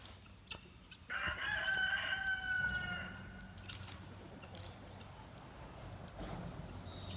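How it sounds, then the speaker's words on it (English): Guinea fowl calling outdoors on a farm with chickens, a burst of harsh repeated cries at moderate distance against a quiet background. "And they're the guineas."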